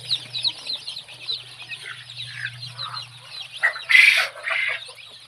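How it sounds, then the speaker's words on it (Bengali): Tiger chicken chicks on a poultry farm cheep and chirp continuously at close range, with a louder burst of peeping near the end over a faint low hum. "আপনাদেরকে দেখাচ্ছি মুরগির বাচ্চাগুলো।"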